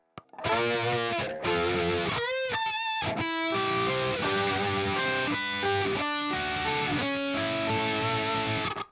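Loud distorted electric guitar plays the chorus riff of a song, with dense sustained chords and quick note runs and whammy-bar bends, continuous and alone.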